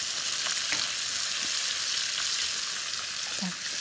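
Sausage and vegetables stir-frying in a pan give a steady, close sizzle with occasional soft scrapes of stirring, continuous for a few seconds with no talking.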